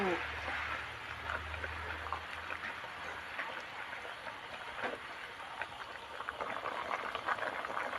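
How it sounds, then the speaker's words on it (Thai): Mixed wild mushroom curry simmering in a pot gives a steady, fairly quiet bubbling hiss that runs the whole time, with a low hum early on and no talking. "ต้มอีกสักครู่"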